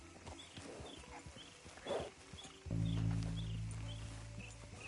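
Horse hooves clip-clop in the video game Red Dead Redemption 2, a steady close trotting rhythm that is soon covered by a louder, sustained low droning tone.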